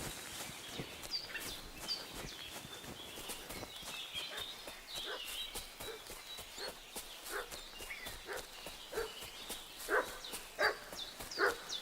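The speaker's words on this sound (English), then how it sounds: "What's that dog making such a fuss about?" A dog in a video game barks repeatedly in short, sharp yips and bow-wows scattered across the whole stretch, mid-distance and moderately loud, louder near the end, over a faint ambient bed with no talking.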